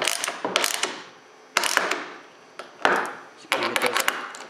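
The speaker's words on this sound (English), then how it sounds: "you're going to use a ratchet and a 7/16" Ratchet with a 7/16 socket tightening a bolt on a library bed frame, heard as bursts of quick clicking strokes at close range with short pauses between them.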